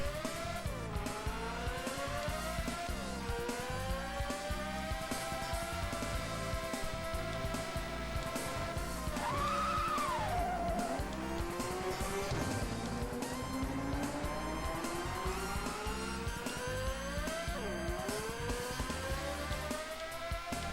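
A racing video game car drifts, its engine droning steadily while sliding tire squeals rise and fall in pitch for the whole stretch, no talk.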